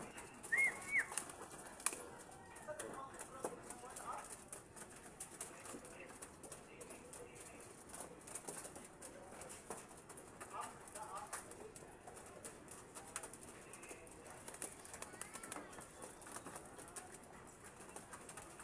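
Soft pigeon coos and wing flutters in an open outdoor setting, faint and intermittent over a quiet background.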